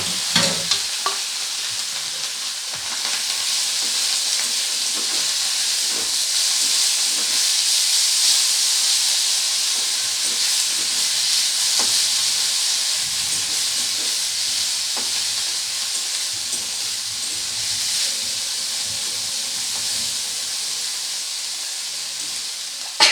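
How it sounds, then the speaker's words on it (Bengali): Drained shrimp frying in hot oil, a loud continuous hiss and sizzle held steady throughout with small crackles and occasional faint utensil taps, no voices. "তেলের মধ্যে এবার দিয়ে দিচ্ছি জল ঝরিয়ে নেওয়া চিংড়ি মাছটা।"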